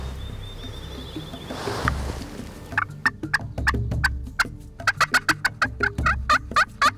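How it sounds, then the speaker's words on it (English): A wild turkey gobbles repeatedly in quick rattling bursts, fairly close, over low outdoor rumble and faint birdsong. "we got another one gobbling, but he's 300, maybe 500 yards"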